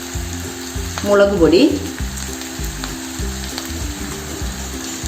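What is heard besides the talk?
chilli chicken being stir-fried and mixed in pan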